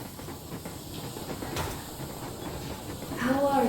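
Steam train Yermak from the video game Metro Exodus rolling along, a dense low rumbling clatter with a brief burst of hissing steam, growing louder toward the end.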